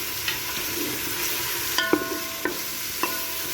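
Garlic ginger paste frying in a pan for wheat daliya, a continuous hiss of sizzling oil with several sharp spoon scrapes and taps against the pan, close and fairly loud, no talking.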